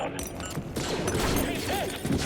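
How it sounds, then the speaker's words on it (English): Rapid blaster fire in Star Wars Jedi Fallen Order, a busy clatter of shots layered over dense game noise and music, steady and loud throughout the short stretch. "I'm gonna shoot him! Shoot him down!"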